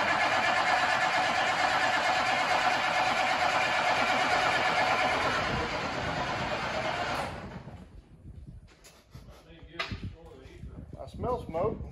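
An S1700 water truck with a DV 550 diesel engine cranking on its first start in 15 years, a loud steady churning roar that cuts off abruptly, then scattered clanks and voices in the quieter aftermath.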